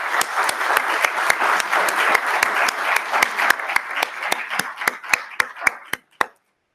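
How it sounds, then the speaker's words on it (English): An audience gives a round of applause for city staff at a 2018 State of the City address, dense clapping that thins into a few loud, separate claps before stopping. "I'd like to give them a round of applause."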